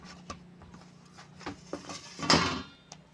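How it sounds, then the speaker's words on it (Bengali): Knife chopping rolled dough into small katkati pieces for crispy morali, with a string of light taps on a board and one louder clatter near the end, no talking. "এবার আমি এগুলো কটকটি শেপে আমি কেটে নেব"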